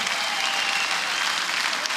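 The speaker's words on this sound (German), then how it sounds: "Einen großen Applaus für beide Kämpfer für diesen Fight heute Abend." A boxing-night crowd at a European championship bout applauds both fighters after the fight, producing a thick, continuous roar of clapping that stays steady and full for about two seconds.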